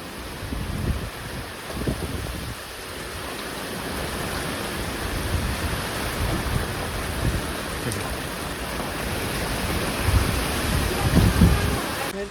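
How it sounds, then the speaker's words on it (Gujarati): A violent windstorm with heavy rain and thunder: a dense, continuous roar of rain and gusting wind, with deep thunder rumbles swelling at the start and again near the end. "અસલ વાવાઝોડું છે મિત્રો આ"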